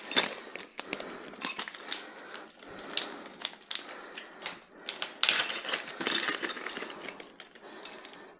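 Screws come out of the packaging of a Creality K1 Max 3D printer with small metallic clinks, taps and rattles in irregular bursts, close and fairly quiet, and no one speaking.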